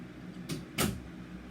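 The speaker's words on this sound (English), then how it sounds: "The door just shut." A door shutting indoors, two quick soft bumps about a third of a second apart, the second slightly louder, heard alone against a quiet room background.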